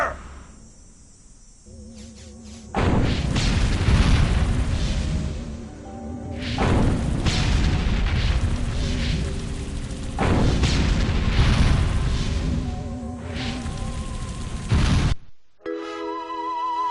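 Sustained gunfire and heavy blasts in the video game Destroy All Humans roar in long dense bursts for about twelve seconds, loud and close, then cut off abruptly before quieter game sounds resume.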